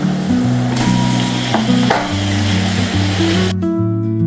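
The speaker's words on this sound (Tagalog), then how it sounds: "now we're ready to put our pork" Pork hitting a hot pan for a Filipino pork soup with green papaya and sweet potato leaves, giving a steady loud sizzle under background music that cuts out near the end.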